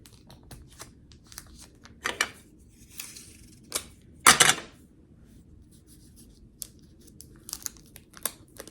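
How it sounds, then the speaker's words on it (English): Tape being pulled and pressed over cotton pads on a doll's eyes, giving sparse close crinkles, ticks and one louder ripping tear in quiet surroundings, with no talking. "I'll just use a little tape to make sure that all stays on"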